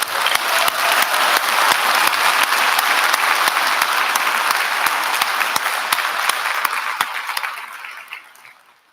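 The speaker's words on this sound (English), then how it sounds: "we'll break for a round of applause for that group" A graduation crowd applauds steadily for a group of graduates, dense and loud clapping sustained throughout before fading out at the end.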